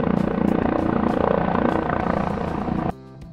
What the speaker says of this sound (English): 14 helicopters.